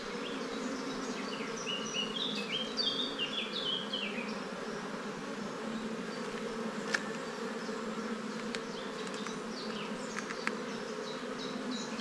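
Honeybees buzz steadily inside an open beehive during an inspection, a dense continuous hum with scattered brighter wingbeat whines drifting over it, close and unbroken for the whole stretch.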